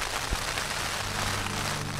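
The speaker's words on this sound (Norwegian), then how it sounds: "Det blåser og det regner og det står på." Rain and wind sweep across the open Hardangervidda mountain plateau in Norway, a steady broadband hiss of wet weather with no voices.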